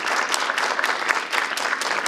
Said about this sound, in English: Let's give everyone a warm round of applause